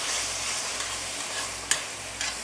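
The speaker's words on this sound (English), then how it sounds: "While the chicken is frying" Chicken frying in oil in a skillet over medium heat, a steady close hiss and sizzle with a few brief sharper crackles and pops, no talking.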